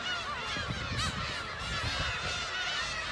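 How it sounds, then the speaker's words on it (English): Black-tailed gulls call steadily at a crowded nesting colony on a bird island near Hachinohe, Aomori, a dense overlapping chorus of harsh honking cries, some close and some farther off. "I found a black-tailed gull warming an egg."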